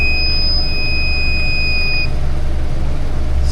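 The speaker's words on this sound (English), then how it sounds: "And there's our low volt alarm." A battery tester's low-voltage alarm on a failing lead-acid battery sounds a loud, steady high-pitched electronic tone for about two seconds, then cuts off, leaving a low engine-like rumble underneath.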